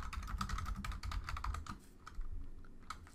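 Rapid, fairly close keystrokes tapped out on a computer keyboard while entering text into a drawing program, with a short pause before a final run of keys.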